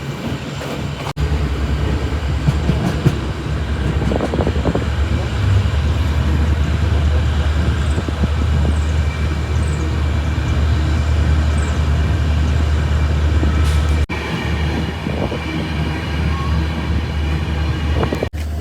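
The Solapur Hassan Express rolls into B G Nagar station, its steady low rumble and wheel noise filling the scene at close range with no voices.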